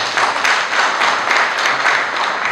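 Audience applauding at a Dakar real estate fair, loud continuous clapping from many hands filling the room without pause.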